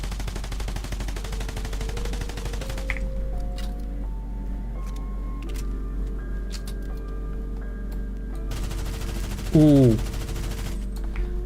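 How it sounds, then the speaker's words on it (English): A drum gun fires in Fortnite, scattered sharp shots and rattling bursts over a steady electronic hum and game tones, with a short vocal exclamation from a player. "The drum gun looks so cool."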